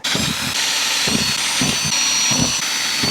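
A power drill with a 3mm bit whines steadily at close range, drilling a pilot hole, its motor pitch dipping in several rhythmic pulses as the bit bites into material.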